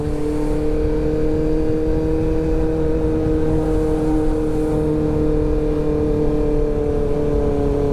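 Loud, steady engine drone of many motorcycles riding close behind on a group Sunday ride, a constant rumbling hum with no breaks.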